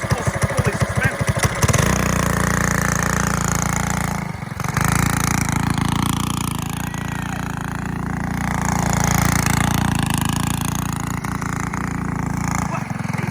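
A Stage 2 Trailmaster minibike engine runs steadily and close by, a buzzing small-engine drone with slight rises and dips in revs, while people talk over it.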